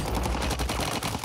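Rapid first-person shooter video game gunfire, a dense burst of close, loud shots repeating quickly for about a second with no talking.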